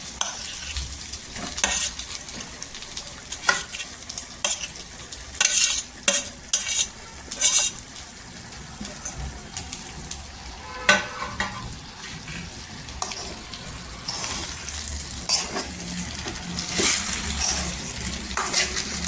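Stuffed brinjal masala (baingan) is mixed in a sizzling pan, with repeated scraping and clanking stirs of a spoon over a continuous frying hiss, irregular and close.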